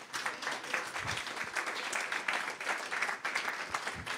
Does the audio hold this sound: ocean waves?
no